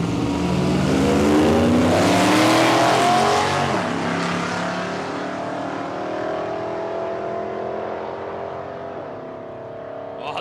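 A Ford F truck and a big Ford Bronco drag racing at Palmyra Raceway roar loudly off the line, engines revving up through rising pitch before the sound eases and fades toward the end.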